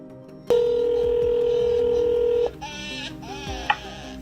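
A telephone call is dialed. A steady dial tone sounds for about two seconds, then a quick run of touch-tone keypad beeps follows, loud and close, with no talking.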